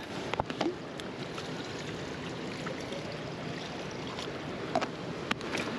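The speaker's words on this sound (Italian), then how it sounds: "E qua abbiamo la fontanina di acqua." A small water fountain beside a road at Pederü in the Dolomites runs steadily, giving a continuous splashing wash of water. Faint outdoor sounds come through with it, and no one speaks.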